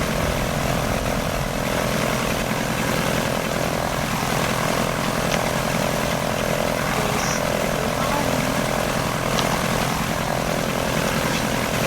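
A big propeller aircraft engine in the BeamNG.Drive game drones steadily and loudly throughout, a dense continuous roar with a faint buzzing hum and no talk.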